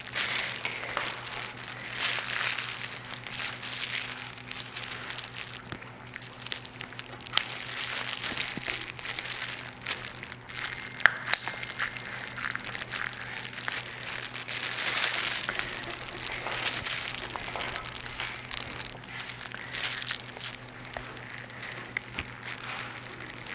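Thin plastic sheet crinkles and rustles in irregular bursts as it is worked around a rubber lever hood on a 2003 road bicycle, close and continuous over a faint steady hum.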